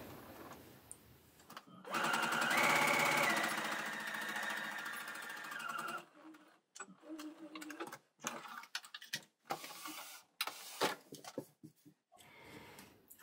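A sewing machine stitches a quarter-inch seam attaching a pocket to a skirt in grey thread, a close continuous whir of fast stitches lasting a few seconds, then scattered clicks and fabric handling with no talking.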